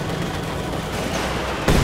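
Heavy mortar fire in a Company of Heroes 2 battle sounds as a dense rumble of distant combat, ending in a sudden loud, sharp blast near the close.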